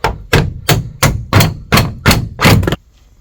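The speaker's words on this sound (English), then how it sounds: "if I hammer this down, it will split it all" Eight sharp hammer blows strike the siliconed fittings on a campervan roof, evenly spaced and loud, the last two running close together, followed by a brief quiet tail.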